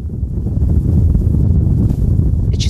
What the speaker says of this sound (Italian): Sono le eliche che creano il vento e il fumo evidenzia la scia aerodinamica